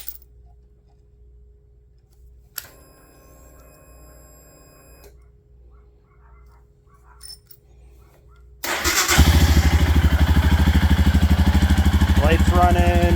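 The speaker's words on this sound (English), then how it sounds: "Start the bike, and let's see if it actually still works properly." A Royal Enfield motorcycle engine catches after a brief starter beep and chime, then settles into a loud, close, steady thumping idle that runs to the end.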